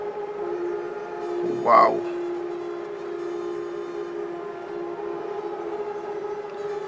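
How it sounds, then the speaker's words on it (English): Long horns blown outdoors during a traditional Thai royal ceremony sound as one steady, droning blast that holds through the whole stretch, with a brief louder swell early on and a short exclamation from a voice. "I guess they're blowing horn outside"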